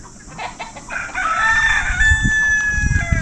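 Roosters crow and hens cluck at a native chicken farm in a hilly area of Saudi Arabia, with a long close crow ringing out over busy clucking and scattered farmyard noise.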